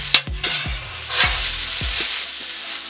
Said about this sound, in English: Let me move my potatoes around a little bit.